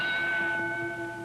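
A boxing ring bell rings to open round 8 of the 1951 Rocky Marciano versus Joe Louis fight, sustaining a steady metallic ring with overtones throughout, moderately loud over faint arena background.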